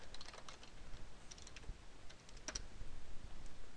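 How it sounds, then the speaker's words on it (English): Quick, light taps on a computer keyboard as a search term is typed into Google, a steady patter of close clicks with a few sharper keystrokes. "type in OpenOffice"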